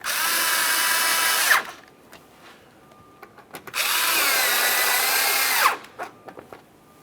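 A power drill runs in two steady bursts of about a second and a half each, snugging up two 7mm-headed mounting screws under the front bumper cover of a 2017-2024 GMC Acadia, with quiet pauses and small clicks between them.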